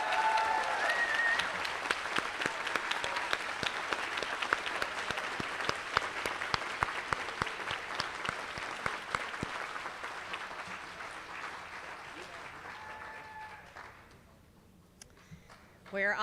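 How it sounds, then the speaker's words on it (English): An awards ceremony audience applauds at a medical school graduation, sustained clapping swelling early and slowly thinning out, then fading near the end before a brief sound at the close. "Please give these individuals a great round of applause."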